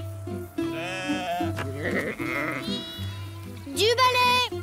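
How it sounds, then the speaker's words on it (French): Cartoon sheep bleat loudly in a burst near the end, mixed with animated dialogue and background music as a flock escapes. "Les moutons se sont échappés."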